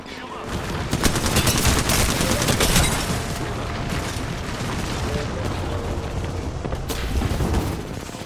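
Sustained gunfire from the battle royale shooter Apex Legends, dense and continuous bursts with loud peaks early and late, set against other game sounds and occasional voice.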